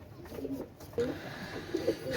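Pigeons, a black horse hen and a Royal Teddy cock, give soft, low, repeated coos, close and moderately quiet over a faint background hiss.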